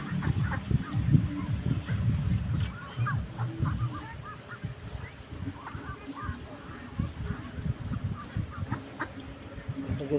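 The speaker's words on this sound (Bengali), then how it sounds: "এইগুলো পুকুরে আসে এইগুলো হাঁস" A flock of native ducks kept at a small homestead pond quack and honk in loud, overlapping calls, some close and some farther off, with low background noise between the bursts.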